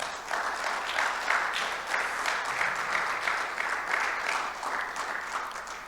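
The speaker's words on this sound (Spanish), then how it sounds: "Vamos a dar un aplauso al Señor." A church congregation applauds, a steady wash of clapping from many hands that holds at even loudness for several seconds with no speech over it.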